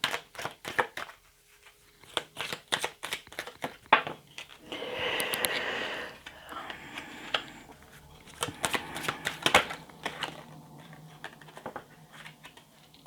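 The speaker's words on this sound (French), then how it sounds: "il faut quand même mettre les cartes un petit peu au hasard" Tarot cards being shuffled and laid out by hand in repeated quick riffling and slapping bursts, close by, with brief pauses between handfuls.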